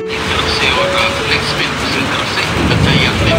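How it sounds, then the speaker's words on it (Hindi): Heavy rain pours steadily in a dense, loud hiss, with a voice speaking over it. "बाहर पे भैया बारिश हो रही है तगड़ी वाली है"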